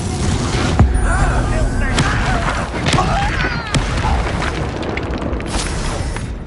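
Repeated booming fire-blast explosions from a Harry Potter video game spell duel, dense and loud, thudding one after another under a busy layer of voices and battle noise throughout.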